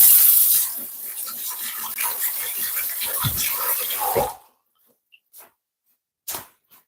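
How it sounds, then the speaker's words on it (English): Tap water running over spring onions being rinsed at a sink, a steady splashing rush for about four seconds that cuts off, followed by a few faint drips and clicks. "Just going to quickly rinse this off"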